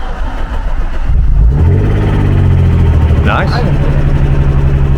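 A high-mileage MG ZS 180 car, rescued from scrap, cranks and catches, then settles into a rough, steady engine run with a brief rev. People talk close by over the engine.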